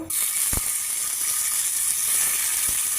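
Tomato pieces, bottle gourd and green chillies hit hot oil in a pan, a loud continuous sizzle and hiss with a couple of faint utensil clicks.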